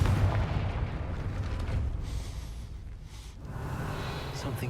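A Confringo blasting spell goes off in Hogwarts Legacy, a heavy rumbling explosion with a deep booming tail that fades and then swells again.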